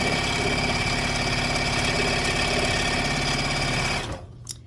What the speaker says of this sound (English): I pinch it with my fingers on the opposite end and just sew it across